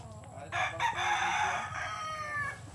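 On a chicken farm, a breeding rooster crows one loud, drawn-out call close by over a low background hum.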